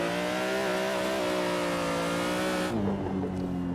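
Sustained high-revving engine of a BMW M3 drift car in Assetto Corsa, loud and close, pitch holding with slight steps before dropping and roughening near the end as revs fall.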